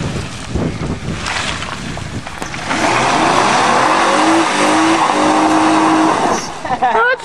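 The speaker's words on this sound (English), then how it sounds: "See if it will burn the tires." A 2007 Ford Fusion revs and spins its tires in farm mud, the engine roaring steadily with a whining tire squeal, while people talk nearby over the noise.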